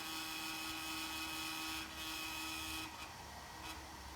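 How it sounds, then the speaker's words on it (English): A biochar gasifier's fan, not glued on properly, running as a steady, close whirring drone with a faint tonal hum that shifts slightly partway through, no talking. "is it sounding weird now? But that's the fan."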